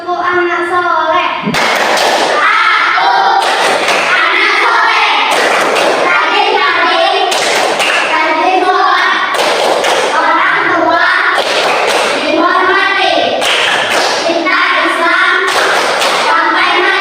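A class of children claps out the rhythmic 'tepuk anak soleh' chant, with bursts of loud, patterned clapping between chanted voices and a teacher leading in a classroom.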